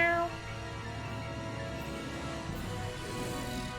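A cat meows in the video game Tales of Zestiria, drawn-out tonal calls set over a sustained background of game music.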